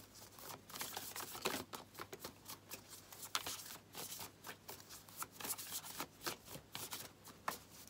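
Tarot cards being shuffled by hand, a series of crisp riffling and flicking bursts in an uneven rhythm, close and fairly quiet, with no talking.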